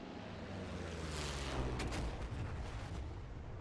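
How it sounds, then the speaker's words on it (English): Deep, rumbling explosions from the DCS World flight simulator boom one after another over a constant low roar, dense and heavy, with no voices. "The new explosions do look pretty good."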